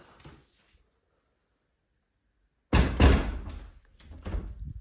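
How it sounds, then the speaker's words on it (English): A house door swung open with a sudden loud thunk after a quiet pause, followed by a brief rattle and bump as it settles. "Open the door. Bam!"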